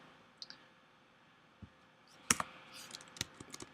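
Computer keyboard keys and a mouse clicking while code is edited for a webpage: near-silence at first, then a cluster of sharp, close clicks and taps in the second half, with no talking.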